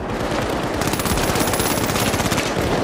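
Rapid automatic gunfire in the video game THE FINALS, a dense, loud burst of closely spaced shots lasting a few seconds with no pauses.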